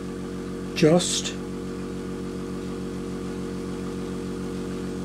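A UGears wooden pneumatic engine runs on air from a small compressor, leaking air past its pistons, and gives off a steady, even mechanical hum throughout, with a brief spoken word near the start.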